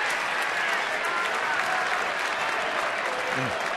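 Baseball fans at a Minnesota at Baltimore game applaud a strikeout with dense, sustained clapping from a large crowd, steady and full throughout.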